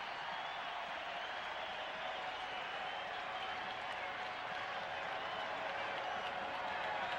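Crowd noise at Atlanta's stadium during the 1992 World Series between the Toronto Blue Jays and Atlanta Braves, a steady distant roar of applause and voices that holds evenly throughout with no clear speech on top.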